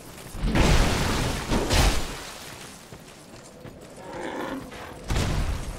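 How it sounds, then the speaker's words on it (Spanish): Pigs in the video game Dark Souls 2 let out loud, deep grunting bellows in three separate bursts, two close together near the start and one more after a quieter stretch, with no talking over them. "Aparte de que hay unos cerdos aquí."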